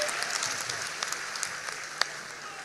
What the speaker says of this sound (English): of applause for him.